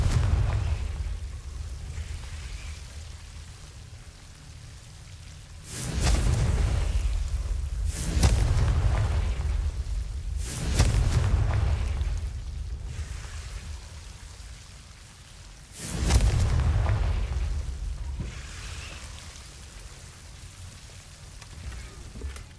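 Confringo fire spell from the Hogwarts Legacy video game blasting repeatedly, four loud booming explosions with crackling tails at irregular intervals over a low rumbling background, no talking.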